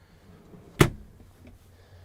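A single sharp knock as a drawer is opened inside a Winnebago EKKO camper, one brief thud standing out from a quiet room.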